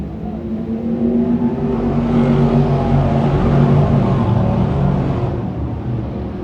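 Race cars accelerate together off turns three and four on a speedway restart, a loud blended engine roar building and swelling as the pack passes close by, then easing slightly.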